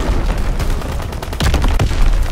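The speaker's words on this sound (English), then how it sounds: "Incoming enemy artillery!" Enemy artillery shells land in a video game battle, a dense rumble of gunfire and blasts with two sharp, loud explosions near the end.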